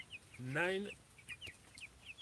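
Broiler chickens in a farm flock: one bird lets out a loud, drawn-out cluck close by, followed by several short, faint chirps and clucks from others nearby.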